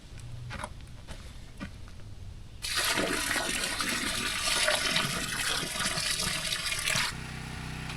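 Water gushes into a freshly dug 20-inch footing hole for a shipping container foundation, a loud, steady pouring that starts abruptly after outdoor quiet, runs for about four seconds, then stops.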